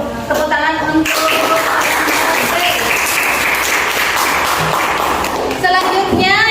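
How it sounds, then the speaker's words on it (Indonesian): Crowd applause at a classroom teaching-practice session for a teacher training program in Madura, a dense steady wash of clapping lasting several seconds, with brief voices at the start and end. "Tepuk tangan untuk"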